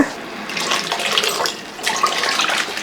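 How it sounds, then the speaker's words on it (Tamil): Water pours from a large tumbler into a pot of thick green gram and raw papaya gravy, a close, continuous splashing gurgle lasting a few seconds with a brief pause midway. "இப்போ கொஞ்சம் தண்ணி சேர்த்துக்கலாங்க"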